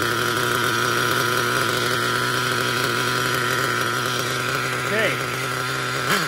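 A nitro Traxxas T-Maxx RC truck engine, glow-plug started after ten years unused and running a little lean, buzzes steadily at high pitch, loud and close, with a brief rev near the end and a short spoken word.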